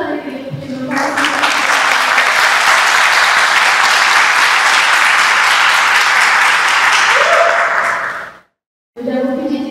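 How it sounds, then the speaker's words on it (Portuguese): A church congregation applauds, sustained loud clapping that rises quickly, holds steady for several seconds and then cuts off abruptly, followed by a voice speaking. "Eu queria muito que vocês aplaudissem isso com muita alegria"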